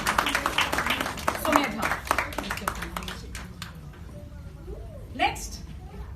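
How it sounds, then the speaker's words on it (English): Clapping from an audience at a National Handloom Day event, mixed with a speaker's amplified voice and then thinning into scattered claps and faint room chatter. "Everyone, a big round of applause to Shiona and"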